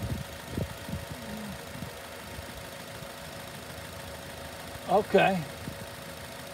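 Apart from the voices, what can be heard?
car engine running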